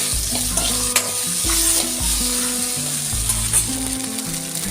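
Eggplant pieces sauté in a hot pan for a coconut-free theeyal, with a loud, continuous sizzle and frequent scraping stir strokes over faint background music.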